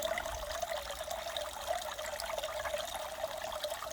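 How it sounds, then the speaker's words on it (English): A small backyard pond waterfall, fed by a pump, trickles steadily at night, a soft continuous splashing close by with no voices. "Oh, my little waterfall at night."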